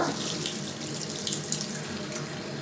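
Hot water runs steadily from a tap into a sink, a constant close hissing flow with no speech.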